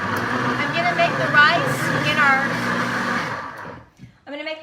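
A Deluxe Cooking Blender runs steadily and loudly while making cauliflower curry, its motor drone holding a continuous whine for about three seconds before cutting off, with a voice briefly heard afterward.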